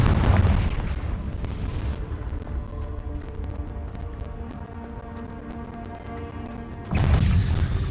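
A Confringo explosion spell blast in Hogwarts Legacy, a loud booming burst at the start with a sustained rumbling roar, then another strong blast near the end.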